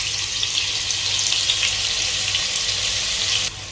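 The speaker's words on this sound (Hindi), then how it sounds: "ऑयल गर्म हो गया जी। प्याज जो मैंने आधा प्याज कट किया हुआ था वो मैंने इसमें डाल दिया।" Half a cut onion sizzling in hot oil for chicken jalfrezi, a steady loud hiss and crackle that runs throughout and drops a little in level near the end, with no talking.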